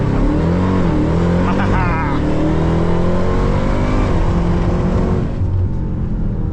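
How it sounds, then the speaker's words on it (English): A powerful Dodge Durango engine roars at full throttle in a launch-control start, revving hard and pulling steadily upward in pitch, loud and close, with brief speech underneath. "launch control on, full brake pressure, mat the throttle, and let her rip"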